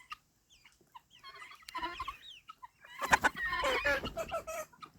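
Guinea hens and two roosters in a backyard flock cluck and chatter in bursts, sparse at first and then a dense, louder jumble of overlapping calls near the listener.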